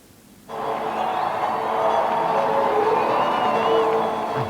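A large crowd packs the streets of Dundalk, an Irish border town, to welcome US President Bill Clinton. A sudden swell of cheering and whooping rises and holds, loud and sustained, with whistles cutting through.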